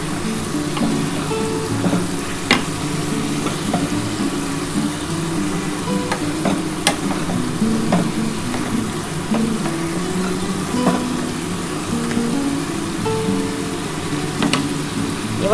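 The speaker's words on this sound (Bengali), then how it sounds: "বন্ধুরা দেখো এই যে আদা রসুনের জলটা আমি দিয়ে দিচ্ছি।" Masala for a chicken kosha cooked in a pan with ginger-garlic water added, frying on the stove: a dense, continuous close sizzle and bubbling that holds steady throughout, with faint clinks here and there and no speech.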